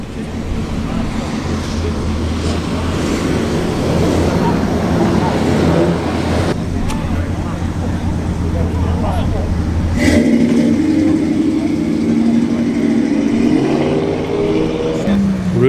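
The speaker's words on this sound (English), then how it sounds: "Pickup truck movements here, the Dodge Ram, the mighty Dodge Ram." A Dodge Ram pickup truck rumbles past at an outdoor car meet, a low steady engine drone that shifts to a louder, higher rev partway through, with crowd chatter and other vehicles around.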